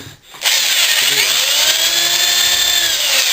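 A power drill whines at a steady high pitch, biting continuously into wood after a brief start, loud and close with no talking.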